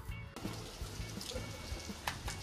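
Rain falls steadily with soft patters and scattered drips, a constant wash under an occasional low rhythmic hum.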